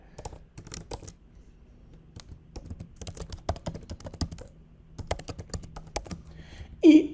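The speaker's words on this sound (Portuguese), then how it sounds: "enquanto eu estou digitando" Quiet, close tapping on a computer keyboard in irregular bursts of keystrokes with short pauses, ending in a slightly louder clack, with no talk.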